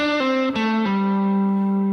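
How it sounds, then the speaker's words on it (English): An electric guitar plays a short lead phrase with pull-offs, three quick stepped notes falling into a sustained distorted tone. "The second key for emotional guitar playing is pull-offs."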